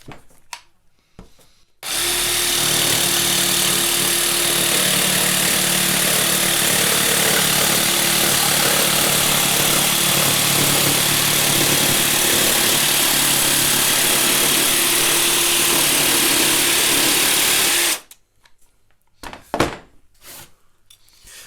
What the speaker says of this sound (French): c'est une grosse lame pour de la scie sauteuse